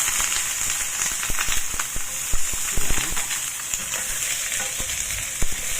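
Ginger, scallion and onions fry in a hot pan, giving a loud, continuous sizzle with sharp crackling pops and occasional stirring bursts.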